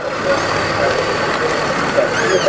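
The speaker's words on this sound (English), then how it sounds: "Boy, look at that big tractor, Xander." Large tractor engine idling at a parade, a steady low rumble running throughout at close range with broad outdoor noise, faint voices mixed in.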